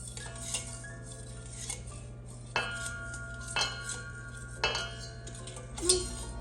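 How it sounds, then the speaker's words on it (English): Pepper and oregano are mixed together in a dish, with a utensil clinking and scraping against it in a few distinct bursts over a steady low hum, no talking. "Mix them together."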